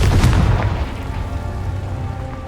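A Confringo blasting spell from Hogwarts Legacy explodes with a single deep, loud boom that rolls out into a rumbling decay, heard alone without speech.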